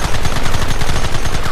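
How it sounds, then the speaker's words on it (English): Dense, continuous automatic gunfire in the Western video game Red Dead Redemption, a loud, steady rattle of many rapid shots with no pauses and no voices. "Fire at will!"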